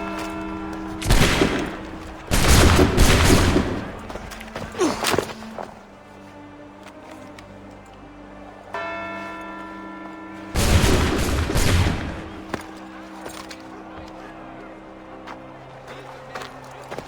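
Musket volleys ring out in Assassin's Creed 3, two loud crashing bursts of gunfire several seconds apart, each a rapid cluster of cracks over a low musical drone.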